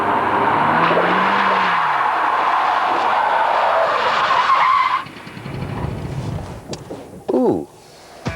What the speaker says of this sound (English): If you want to avoid a skid like this one, driving at snail's pace is the only answer.